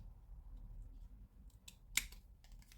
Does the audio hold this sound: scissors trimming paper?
yes